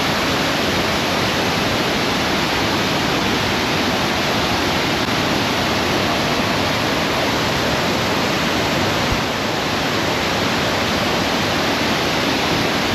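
Savdav waterfall near Kankavali in Sindhudurg, its fast water pouring in a steady, dense roar with no pauses or voices, close and loud throughout.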